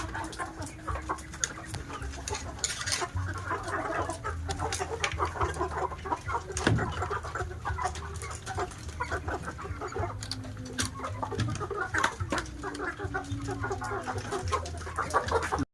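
Chickens on a poultry farm cluck steadily and overlap one another, with occasional louder squawks and a rooster-like call in the mix, close and continuous without any talking.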